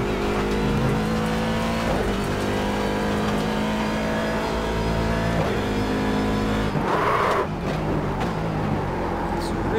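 C7 Daytona Prototype race car engine in iRacing, driven at Okayama on a cold track; loud sustained engine drone with repeated rising and falling revs as gears shift, and a brief burst of noise near the end, with no talk over it.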